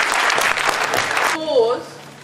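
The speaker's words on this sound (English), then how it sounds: "should we give our volunteers here a round of applause?" Primary school children and adults at a mock parliament day clap for the volunteers, a brief burst of applause that stops abruptly, followed by a short whistle-like sound and faint voices.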